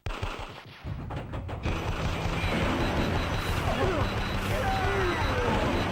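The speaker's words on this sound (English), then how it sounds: "I'm going to run my missiles out here because this bit's quite difficult with missiles" Rapid bursts of weapon fire crackle at the start, giving way to a dense, continuous roar of explosions and blasts as missiles are fired in Elevator Action Returns on the Sega Saturn, loud and sustained throughout.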